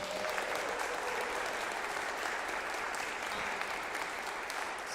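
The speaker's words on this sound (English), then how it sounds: "So I would really love to have a round of applause for Steve." A round of applause at a church annual meeting: steady, dense clapping from the gathered congregation, fairly even in loudness throughout and heard alone without speech.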